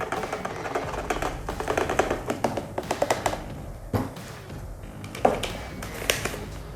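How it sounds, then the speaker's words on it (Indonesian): A plastic culture container of fruit flies being fed to dart frogs is knocked by hand in a string of dry, fairly close taps and thumps, irregular in rhythm and heard without talk. "Kita ketok seperti ini, kita buka,"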